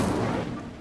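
A fire spell cast in Hogwarts Legacy, heard as a short, loud burst with a whooshing roar that fades over under a second.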